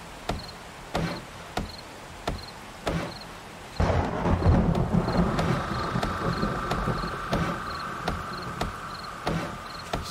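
Rain and thunder in the survival game 7 Days to Die: soft rainfall and a swelling rumble, set against rhythmic, evenly spaced insect chirps that continue the whole way through.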